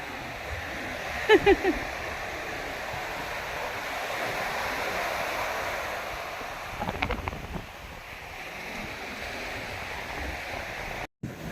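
Seawater surges onto the shore at Tuticorin as a faint, continuous wash buffeted by wind noise on the microphone, with a slightly stronger swell midway and a brief knock near the start.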